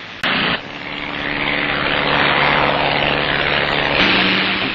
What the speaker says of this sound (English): Captain Stack and his Airspeed Viceroy